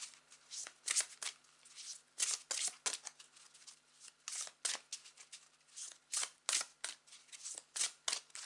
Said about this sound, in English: What message do we need to hear for our highest good